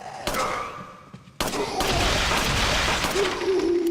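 A sudden explosion in Resident Evil 4, inside the castle, bursts out and then roars on as a dense, sustained rumble after a quieter stretch of game sound.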